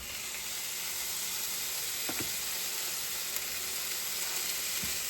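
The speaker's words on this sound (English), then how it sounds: "If not, just take your meat, drop it in." Ground meat sizzles steadily in an oiled pan with garlic, cooked as a taco and nacho base, a constant close hiss with a few faint clicks and no talking.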